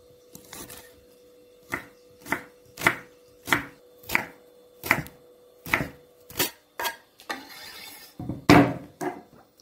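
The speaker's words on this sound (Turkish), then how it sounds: "Şimdi 3 diş sarımsağımız var. Onu da doğrayacağız" A knife chops three garlic cloves on a board, with about a dozen crisp, evenly spaced strikes close by, ending in a quicker burst of chops.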